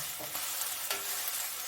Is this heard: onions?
yes